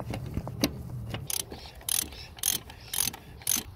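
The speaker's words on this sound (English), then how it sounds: "now I can use the socket to tighten it up all the way" A socket ratchet tightens an oil pressure sensor into an LS1 V8 engine, giving close, crisp bursts of clicking: several short runs of rapid pawl ticks separated by brief pauses, with no talking.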